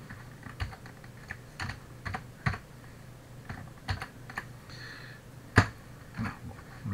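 Typing on a computer keyboard that had stopped responding during a programming session, with scattered, irregular keystrokes and a few louder taps, quiet and close with no voices.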